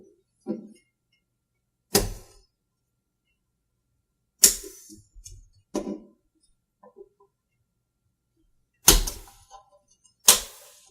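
A plastic pick pries apart the front and back housing of an HTC phone, giving sharp, separate cracking snaps and small clicks spaced across the clip with quiet gaps between them.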